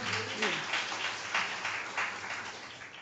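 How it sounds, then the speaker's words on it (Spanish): Audience clapping at a securities market conference in Lima, a soft wash of applause from a crowd lasting a few seconds at moderate distance, with a brief voice at the start. "fuertes palmas."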